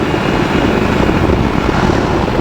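A flex wing microlight's engine runs steadily in flight, a loud continuous propeller drone with broadband roar that holds even throughout, no talk over it.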